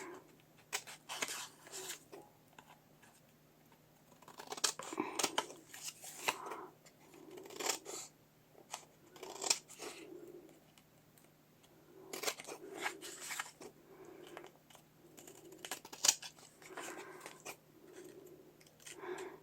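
Repeated snips of scissors trimming around the edges of paper tags, short crisp clips in irregular bursts with pauses between, close and fairly quiet.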